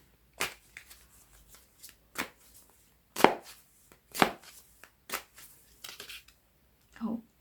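Tarot cards being shuffled and pulled from a deck, giving a series of short, crisp riffling and slapping bursts at uneven intervals, close and fairly quiet, with a brief voice near the end.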